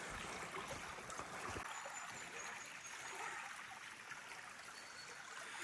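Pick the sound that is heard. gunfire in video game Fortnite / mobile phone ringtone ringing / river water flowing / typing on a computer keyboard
river water flowing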